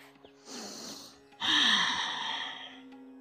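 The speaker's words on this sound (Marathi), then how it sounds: "सर्व श्वास बाहेर सोडायचा" A person doing morning yoga exhales forcefully, two long audible breaths pushed out through the nose and mouth, close and clear in a quiet room.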